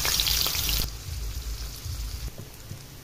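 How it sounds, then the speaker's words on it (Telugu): Small cubes of paneer fry in a little oil, with a bright hissing sizzle at first that drops to a quieter, steady crackle with faint pops nearby. "కొంచెం ఆయిల్ వేసి అందులో పన్నీర్ వేసి ఫ్రై చేయాలండి."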